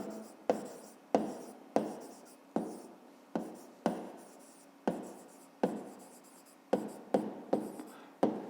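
Pen or pencil writing out the perimeter of a rectangle during a fifth-grade math exercise, a run of about a dozen short, crisp strokes, each starting sharply and fading, close and alone with no talk.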